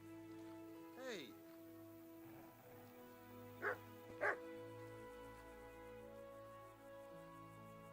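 A dog barks a few times in the Kingdom Come: Deliverance video game, with short yips spread across a steady hum of game music and ambience, and a voice speaking briefly near the start.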